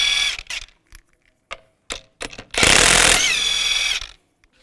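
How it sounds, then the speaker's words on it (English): A 22 millimeter socket on a tool pulls the wheel lug nuts off a 2015-2020 Cadillac Escalade, giving short mechanical bursts with pauses and then one longer, louder rattling run. "Use a 22 millimeter socket and take the lug nuts off."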